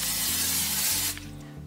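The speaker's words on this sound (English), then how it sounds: "I'm gonna just spray it a little bit of this nonstick cooking spray," Nonstick olive oil cooking spray hisses steadily into a large frying pan in one short, close, loud burst that cuts off abruptly, leaving a faint hum.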